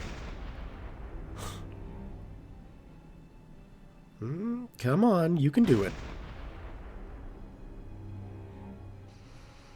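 Deck gun shells strike and explode against a ship in the Silent Hunter 5 submarine game: a rumbling low wash, then a loud burst of blasts midway, with a voice talking briefly before them.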